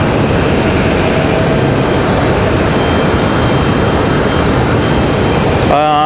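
A United Airbus A319 jet roars steadily and loudly throughout, a continuous broadband engine rumble from a nearby runway during takeoff.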